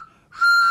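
A whistle blown once, a sharp steady shrill tone starting after a brief faint lead-in and holding loud and close to the end.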